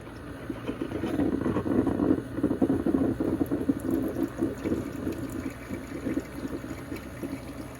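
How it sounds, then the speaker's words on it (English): Espresso machine pulling a shot while a milk frother whisks nearby, a steady hissing, watery pour with gurgling texture that runs continuously at moderate loudness with no talking. "we're going to brew a shot of espresso"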